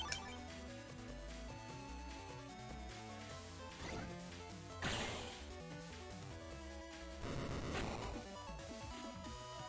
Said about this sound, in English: I like how it's got, like, a shattering light bulb sound effect a little bit.